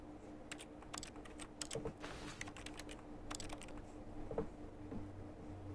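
Computer keyboard typing in The Stanley Parable: a quiet, steady run of light key clicks with occasional bursts of faster strokes, alone without any talking.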